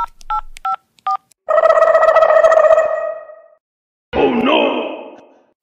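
Telephone keypad tones beep as a number is dialed to call the police, a few short evenly spaced presses followed by a longer tone, then a breathy sigh-like vocal sound, all close and fairly loud.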